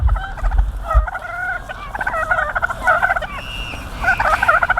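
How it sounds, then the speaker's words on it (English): Royal Palm turkeys on a farm gobble repeatedly in loud, rapid bursts, several birds calling close by in overlapping rattling waves. "look at these cool turkeys. They're pretty friendly. I believe these are Royal Palms."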